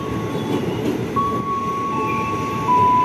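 A KRL commuter train bound for Kampung Bandan via Pasar Senen rolls into platform 4, a rumbling approach with a long thin brake squeal and a louder surge of rail noise near the end.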